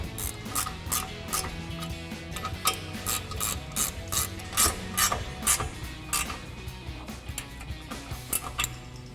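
A hand ratchet fitted with a 16 mm socket clicks in quick, steady bursts while tightening the rear bolts on an aftermarket front bumper for a 2019–2024 RAM 1500; the sound is close, loud and alone.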